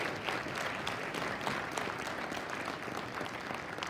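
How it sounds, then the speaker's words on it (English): A round of applause from the audience at a county fairs queen contest, dense many-handed clapping that stays steady and fairly loud throughout. "I think that deserves a huge round of applause for all of us"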